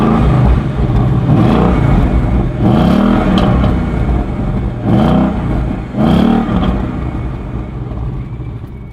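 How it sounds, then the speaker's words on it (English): Ford Mustang convertible V8 set in sport mode, revved hard three or four times in succession, each loud rising roar falling back to a throaty, rumbling idle, close and with no talking. "whack this into sport mode and give you a few revs so you can hear the V8"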